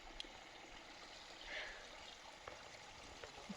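A waterfall in the Rudranath valley, with its snowy mountains, makes a soft, steady rush of falling water heard from a distance, with a few faint ticks on top.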